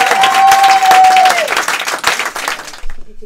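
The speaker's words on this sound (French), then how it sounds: "Sous vos applaudissements." An audience breaks into loud, dense applause with a sustained whistled tone over the first half, then the clapping gradually thins and dies away.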